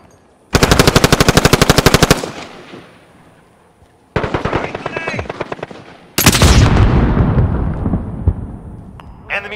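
An enemy sentry gun in a multiplayer shooter fires three long rapid bursts, each loud, close and metallic, with brief pauses between them and a heavier roar under the last burst.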